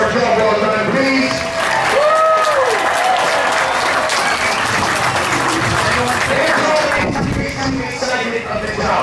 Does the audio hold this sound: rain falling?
no